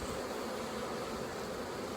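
A dense, steady buzz of defensive survivor honey bees swarming around their hive, continuous and close with no pauses.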